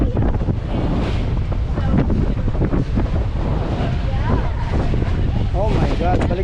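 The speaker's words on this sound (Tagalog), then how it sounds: "ang lalaki ng alon doon" Big ocean waves at a beach in Hawaii roar and crash under heavy wind buffeting on the microphone, a constant loud rumble, with excited voices calling out briefly over it.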